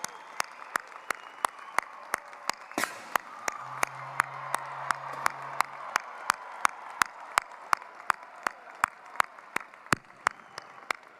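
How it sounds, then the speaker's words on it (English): Applause for Poole College of Management graduates at a 2022 spring graduation ceremony: steady, evenly spaced claps ring out over a soft, diffuse wash of crowd noise in a large hall. "Everyone, please join me in one more final round of applause to formally congratulate our Poole College of Graduate"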